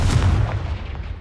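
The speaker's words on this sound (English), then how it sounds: "Confringo!" A Confringo fire spell blasts in Hogwarts Legacy, a loud, deep booming burst that holds steady for about a second before tailing off.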